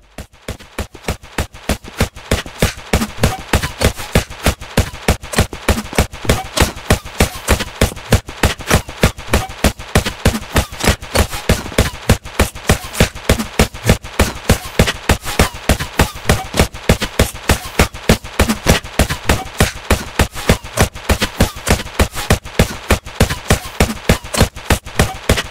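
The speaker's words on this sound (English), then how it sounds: "showing what it looks and sounds like to get shot at in Unturned" Sustained gunfire from the video game Unturned 4.0, heard from the side being shot at: sharp, loud reports in a fast, even rhythm that continue almost without a break, with no talking over them.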